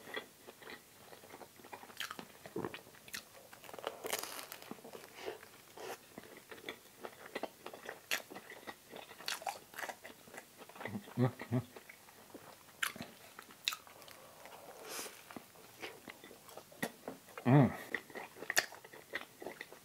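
Bites and chews into a vegan Beyond Meat burger come in close, soft crunchy bursts spread across the stretch, with a louder crunch near the end and quiet gaps between them.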